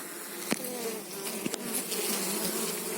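Honey bees buzzing close by at an apiary hive, a dense, continuous hum with a few louder passes as individual bees fly near.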